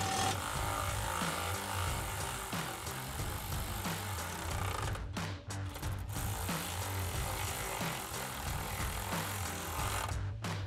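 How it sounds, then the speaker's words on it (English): A ratchet with a 13mm socket tightens exhaust bolts on a 2024 Ford Mustang GT cat-back install, giving a steady run of close rapid clicking with brief pauses between strokes. "we'll take a 13mm socket and tighten these down"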